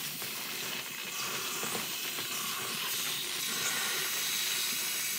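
Steam hisses steadily while the bridge of a Gibson B-25 acoustic guitar is loosened, a soft, continuous, close hiss that lasts throughout with no speech.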